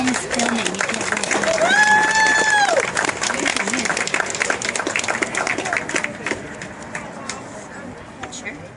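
An audience at a survival competition awards ceremony claps for a team, with a sharp whistle near the start; the applause is moderately loud, then thins and fades over several seconds.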